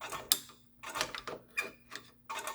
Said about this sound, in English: after a few clicks of the screwdriver